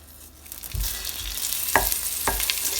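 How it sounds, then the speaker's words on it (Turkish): Butter drops into melted, darkened sugar caramel in a pot for popcorn, setting off a bright crackling sizzle with a few low thumps and stirring scrapes, close and alone. "Şimdi üzerine bir yemek kaşığı kadar tereyağı atıyorum."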